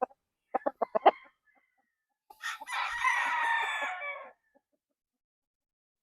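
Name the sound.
roundhead stag rooster crowing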